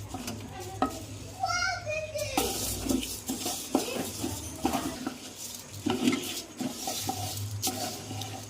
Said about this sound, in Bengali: ভালো করে চালটা ভেজে নিতে হবে।